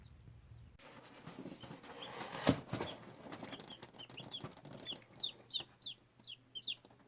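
Chickens at close range give a sudden burst of wing flapping, then a series of soft, quick clucks that grow livelier toward the end in a quiet coop.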